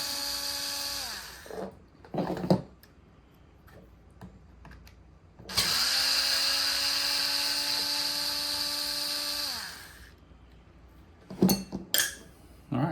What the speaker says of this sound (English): Now we have these two big screws right there, big 4mm screws. And when they're out, the whole thing should come apart.